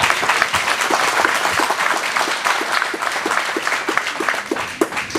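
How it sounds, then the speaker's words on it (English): A banquet hall crowd claps steadily at a college hall of fame awards banquet, dense sustained applause at close range that holds level throughout without voices on top. "Please, another round of applause."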